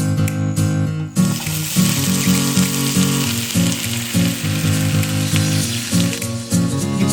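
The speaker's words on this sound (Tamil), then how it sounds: "உப்பு சேர்த்துட்டு நல்லா இதை நல்லெண்ணெயில வதக்கி விடுங்க." Sundakkai (turkey berries), crushed and salted, sauté in sesame oil for a Tamil thokku. After a brief quiet start, a loud, continuous close-up sizzle sets in, broken by repeated soft scrapes and stirs of a spatula.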